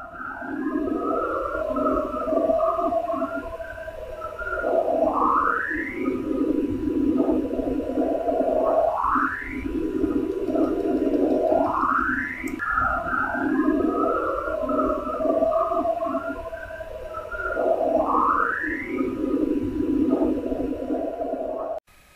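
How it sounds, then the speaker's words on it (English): Eerie, warbling electronic tones recorded from Saturn's hexagon repeat in slow, rising sweeps every few seconds, a continuous whooping drone with no voices. "Here's the sounds that were recorded from Saturn's hexagon."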